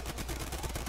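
Gunshots in the video game Neighborhood War, a quick run of faint, dense gunfire crackling in rapid bursts for about a second.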